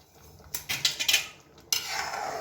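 A ladle stirring dal dhokli in a metal pot makes a few quick clinking, scraping bursts, followed by a steadier clatter near the end. No one speaks.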